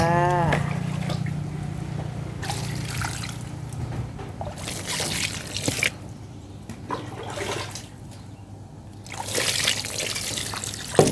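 Water poured generously over wilted, sun-dried ornamental caladium plants, a steady close trickle and splash with a few louder bursts, no talking.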